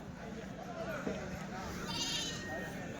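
Sheep bleat repeatedly in the background over a steady outdoor hum at a livestock market, with people talking nearby.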